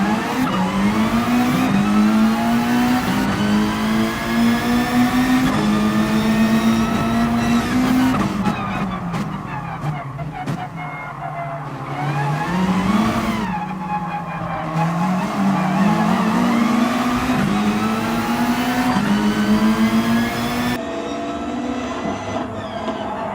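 Race car in a video game, a Mitsubishi Lancer or Subaru Impreza on the Nürburgring Nordschleife, revving at full throttle with a loud, continuous, rising and falling engine note and shifts, heard alone without talk.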